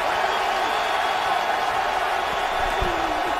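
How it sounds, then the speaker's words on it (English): A packed stadium crowd roars at a Minnesota Vikings home football game against the Tampa Bay Buccaneers, a dense continuous wash of cheering noise, loud and steady throughout the stretch. "this gets the crowd even louder"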